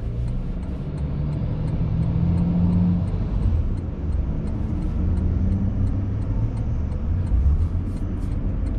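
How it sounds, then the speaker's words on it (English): A 2022 Toyota Tundra with a twin turbo V6 engine pulls a trailer, giving a continuous mid-range engine hum and road rumble that swells and eases gently, with a faint ticking in the background and no speech. "the twin turbo V6 engine. It has 389 horsepower, 479 foot-pounds of torque."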